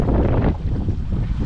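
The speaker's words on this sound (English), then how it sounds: "it is now pretty windy" Heavy wind buffets the microphone beside a lake at Rene Brunelle Provincial Park, Ontario, with a continuous, loud, low rumbling roar and no voices.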